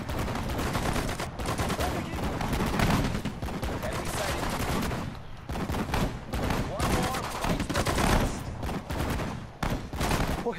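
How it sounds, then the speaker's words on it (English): Rapid gunfire from units in the WWII strategy game Sudden Strike 4, Pacific War setting, crackling in dense, continuous bursts and volleys throughout, loud and busy with overlapping shots. "Let's let this guy fire."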